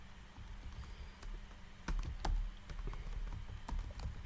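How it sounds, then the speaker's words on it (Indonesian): Keys on a computer keyboard tap out a file name for a QPython mobile exam app, about a dozen light, close clicks in an irregular typing rhythm over a low room hum. "Sekarang coba saya input nama filenya semisal"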